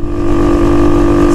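Motorcycle engine droning steadily against a strong headwind, a constant loud hum with wind rush throughout, close and continuous with no talk.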